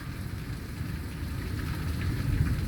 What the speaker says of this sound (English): The rain is so hard.